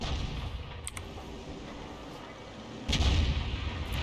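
Tank cannon fire in World of Tanks, a few sharp distant shots followed by one heavier boom near the end, over low battle ambience.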